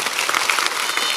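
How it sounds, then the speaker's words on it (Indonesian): A church congregation in Jakarta applauds during a sermon, giving dense, steady clapping throughout with no gaps. "Beri tepuk tangan dong buat Tuhan."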